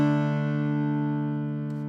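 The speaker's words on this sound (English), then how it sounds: "Strum, let me hear you." A mountain dulcimer is strummed, a rich sustained chord ringing steadily close by and slowly fading.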